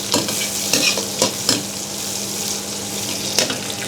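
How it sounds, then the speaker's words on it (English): Chili and garlic frying in a pan over medium heat, a steady sizzle broken by a few sharp scrapes and stirs, close and fairly loud with no talk. "With a medium heat and chili and garlic. Fry chili and garlic."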